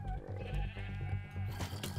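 In the Minecraft video game, sheep bleat among loud, busy game noise and music. Several short bleats sound close.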